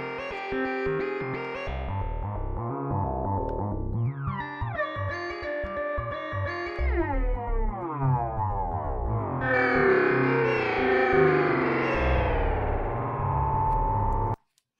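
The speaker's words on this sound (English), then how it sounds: "the comb filter is very good for producing these kinds of zingy, resonant sorts of sounds" Comb filter in Reaktor 6 Blocks shaping a synth, a loud zingy, resonant metallic tone with sweeping pitch glides and buzzing harmonics, continuous and alone, cutting off abruptly at the end.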